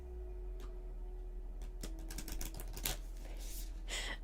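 A deck of cards is shuffled, a quiet burst of rapid flutters and clicks as the cards riffle together, soft and close over a low background hum, with no talk.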